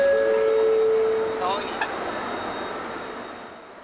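A subway train runs through Malaysia with a steady rolling rumble that gradually eases, while brief electronic tones and a sharp click ring out over it near the start.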